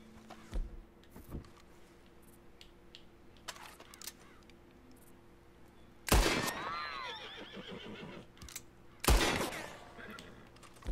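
Two loud gunshots ring out in Red Dead Redemption 2, spaced a few seconds apart, each followed by a horse whinnying, over a quiet ambient game background.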